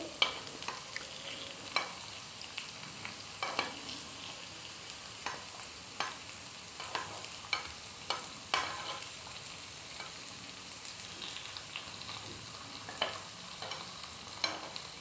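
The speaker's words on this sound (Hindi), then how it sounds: "तो देखिए नाश्ता सिक रहा है" A fasting-day snack sizzles gently as it pan-fries in a little oil, with a soft steady crackle and occasional sharp pops and spatula scrapes.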